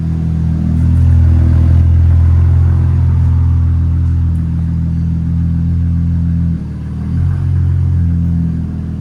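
A 2022 Jeep Grand Cherokee Trailhawk with a 3.6L V6 and straight pipes idles with a deep, steady, loud rumble up close, holding even with one brief dip before settling back.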